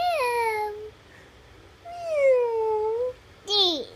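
A voice makes drawn-out meowing sounds, imitating a cat, repeated three times with short pauses between.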